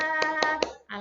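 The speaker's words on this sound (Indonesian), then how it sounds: "Tepuk tangan untuk kita semuanya" Three sharp hand claps from a class of children at an Islamic primary school Quran lesson, evenly spaced and close, then a brief voice.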